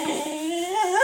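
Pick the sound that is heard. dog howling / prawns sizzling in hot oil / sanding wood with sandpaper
dog howling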